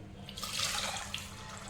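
Water is poured into a pot of soaked beans and peanuts with salt, making a brief splashing, bubbly gush that holds steady and then tapers.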